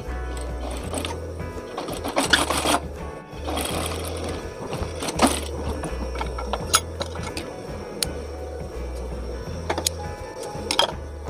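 Sewing machine stitching the inner pocket lining of a gamis dress with a round collar, running in a steady mechanical rhythm of short bursts and pauses throughout at close range, with no talking.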